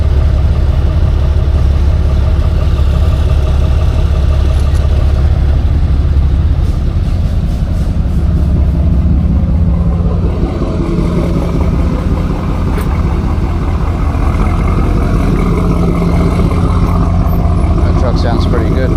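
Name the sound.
Chevy Silverado truck engine running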